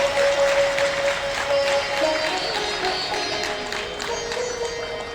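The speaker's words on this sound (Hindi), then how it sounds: "जोरदार तालियों के साथ" Loud applause from an audience at a school centenary celebration as a commemorative souvenir book is released, a dense, steady wash of clapping holding through the whole stretch, with a sustained tone faintly running beneath it.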